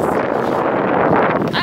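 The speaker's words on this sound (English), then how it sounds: "oh my god, it's so windy" Strong wind buffeting the microphone outdoors, a loud, constant roaring rumble with no gaps across the short stretch.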